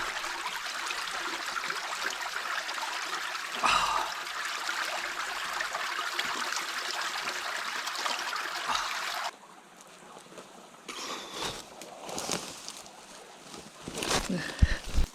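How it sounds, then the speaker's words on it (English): Ocean waves on the coast heard through bush, a steady broad wash for about nine seconds, then the surf drops to a quieter, uneven rush with intermittent swells and rustling close by. "I can hear the waves now, just up ahead."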